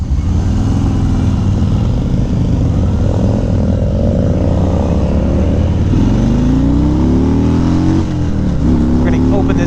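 A 2018 Harley-Davidson Road King Special touring motorcycle opened up hard, its engine note rising steadily through the gears in a loud, continuous roar with wind rush, heard from the rider's position.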